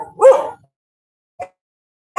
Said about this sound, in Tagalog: Ganda ng aso, oh.